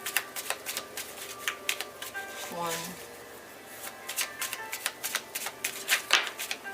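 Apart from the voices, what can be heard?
shuffling a deck of tarot cards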